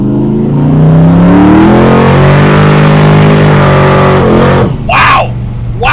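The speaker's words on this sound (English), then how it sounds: "I'll try to give it full throttle." A 1968 Camaro Pro-Street V8 is driven at full throttle, roaring loudly up through the revs before easing off, with a brief gust of wind or voice near the end.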